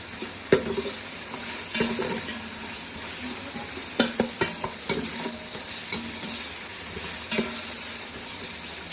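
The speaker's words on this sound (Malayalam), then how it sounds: "അടുപ്പത്ത് ചിക്കൻ കറി ആവുന്നുണ്ട് കേട്ടോ" Chicken curry simmers in a pot on the stove, with a quiet, steady sizzle and intermittent scraping stirs and light clinks of the spoon against the pan; no talking.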